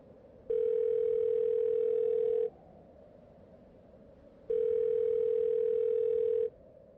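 A telephone tone sounds in two long, steady beeps of about two seconds each, separated by a two-second gap, clear and alone against a faint hiss.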